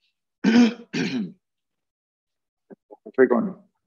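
A man clears his throat after inhaling chocolate powder, with two rough, raspy clears close to the microphone, then a pause and a few quieter catches leading into another harsh clear.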